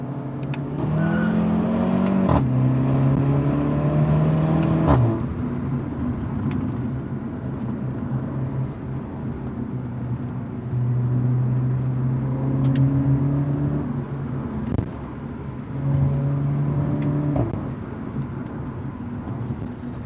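A Skoda Octavia VRS 230 with a 2-litre TSI engine pulls through several gears, its steady engine drone climbing in pitch then dropping at each shift, heard from inside over road and wind noise with no talk.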